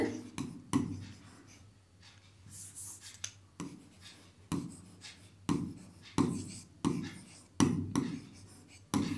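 Pen handwriting notes on paper at a desk, with steady close scratchy strokes repeating in short bursts and rhythmic pauses, alone with no talk.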